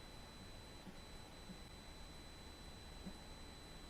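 A multimeter's continuity beep sounds while testing a dryer part, a steady faint high tone held through a quiet, hissy background with a few soft taps.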